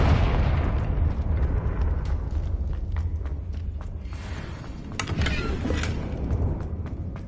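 In the Hogwarts Legacy video game, a Confringo blasting spell goes off as an explosion, a loud booming burst that rumbles and fades, with crackling debris pops and a second flare of noise toward the end.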